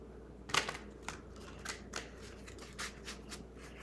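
A deck of cards being ruffle shuffled: a sharp riffle burst near the start, then several softer, brief riffling and flicking bursts spread out at close range, with no one talking.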